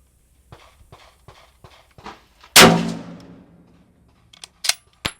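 A single sharp, loud report from a Lee Enfield No. 4 Mk1 bolt-action rifle fired outdoors, ringing out with a long decaying tail, framed by quieter clicks and handling noises before and a few faint clacks after.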